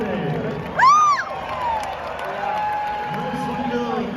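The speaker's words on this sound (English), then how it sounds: "How about a round of applause for the Western Air?" At an arena stock show, a crowd cheers with a loud whooping yell rising over crowd noise, while the general din of applause and voices continues behind it.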